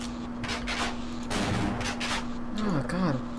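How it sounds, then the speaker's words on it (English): Shotgun blasts in the Half-Life video game, several broadband bursts over steady game ambience with a constant hum, a voice or creature call sweeping near the end. "I'll use my shotgun because I'm scared."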